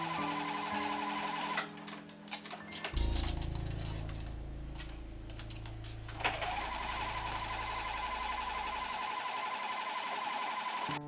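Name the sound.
sewing machine stitching shoulder seam of beach cover-up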